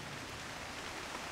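Rain falling outdoors makes a steady, even hiss of drops throughout, with no voices.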